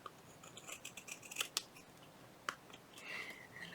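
Scissors trim adhesive felt for a journal cover, giving a few close, faint snips and crisp blade clicks with short gaps between them and no talking.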